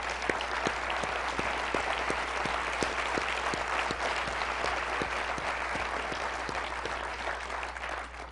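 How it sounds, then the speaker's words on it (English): Audience at an education forum giving a sustained round of applause, an even, dense patter of many hands with some distinct individual claps, steady throughout at moderate volume. "let's give them a round of applause"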